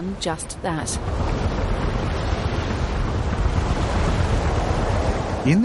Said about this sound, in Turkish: Kıyılar Karanın denizle buluştuğu yer.